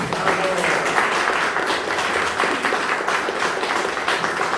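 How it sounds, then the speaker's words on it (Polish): Applause from an audience at a prize-giving ceremony for a recitation and singing contest in Annopol, a steady dense clatter of clapping at moderate level filling the whole stretch, with some voices mixed in. "Brawa dla dziewczyn jeszcze raz."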